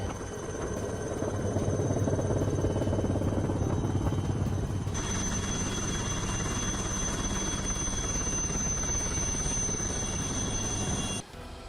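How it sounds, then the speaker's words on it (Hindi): Chetak helicopter on a cyclone rescue operation, its engine and rotor a dense continuous roar, loud and close throughout with a high whine rising partway, cutting off abruptly near the end. "भारत से पहुंचे चेतक हेलीकॉप्टर ने एक घर की छत पर फंसे 4 लोगों का रेस्क्यू किया है"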